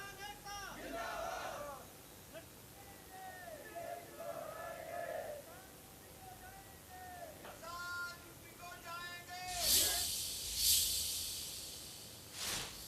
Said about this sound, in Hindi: जाखल रेलवे स्टेशन पर आपको बता दें कि जमकर नारेबाजी की